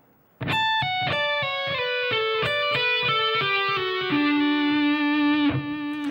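A distorted electric guitar plays a quick melodic metal solo lick of picked and legato notes, ending on a sustained held note.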